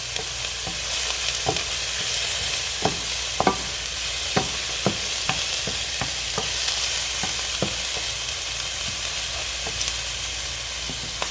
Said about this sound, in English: Saute this a little more.